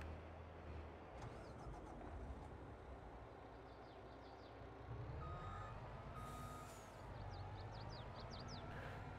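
In the Farming Simulator 22 farming game, a truck sends out steady, repeating reversing beeps over a constant engine rumble, with a few short hissing bursts like air brakes.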